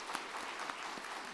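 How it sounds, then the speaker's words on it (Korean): Congregation applauding a church choir and accompanist at a Sunday worship service, a short, fairly quiet patter of clapping from the pews. "우리 박수로 격려해 줍시다"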